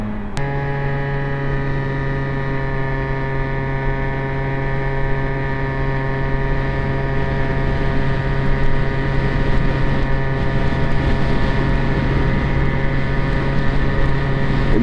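An Aprilia SR50 scooter engine holds a loud, unbroken, high-pitched buzzing drone at high RPM, steady and close throughout with no voices over it.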